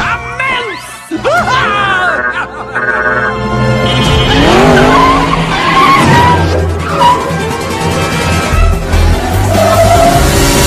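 Cartoon race cars in a video game skid and screech at the start of a race, loud and busy, mixed with music, voices and other effects.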